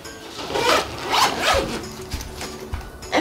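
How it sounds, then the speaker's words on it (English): Zipper on a baby bottle bag being pulled closed in several short, close rasping strokes with brief pauses between them, loud and without talk. "Zip it."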